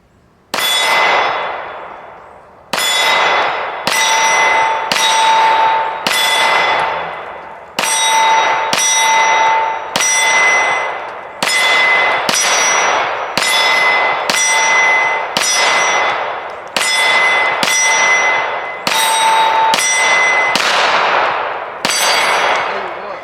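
Springfield Armory XDM Elite 9mm pistol shots striking steel targets at a range, a long steady string of sharp cracks each followed by a bright ringing clang, fired at a regular quick pace.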